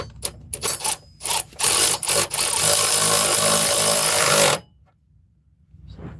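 A power tool tightens a bolt during Ford or Chevy truck repair, opening with several short loud bursts, then running in one sustained whirring rattle for about two seconds before stopping abruptly, close by with no talk.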